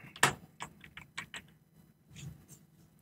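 Someone types code on a computer keyboard: a faint, close run of separate key clicks with an irregular rhythm and short pauses between bursts.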